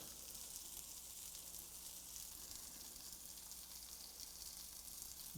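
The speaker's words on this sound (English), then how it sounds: "We're going to take them over to the frying pan." Steady, even sizzling of breaded fish cakes frying in hot oil in a frying pan, a constant crackling hiss with no voices.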